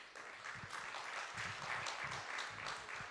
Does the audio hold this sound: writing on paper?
no